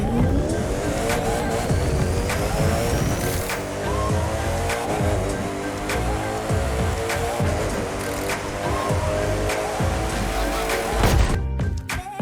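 A Koenigsegg Agera in the racing game The Crew 2 roars continuously as it accelerates, its engine note climbing through repeated gear shifts, loud and unbroken for the whole stretch with no talking.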